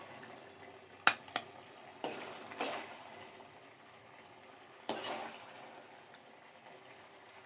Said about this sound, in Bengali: নেড়ে নামিয়ে নেবো কুমড়োটা